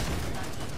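Gunfire in the co-op shooter Killing Floor 2 forms a dense, unbroken burst of shots that fills the whole moment at steady loudness.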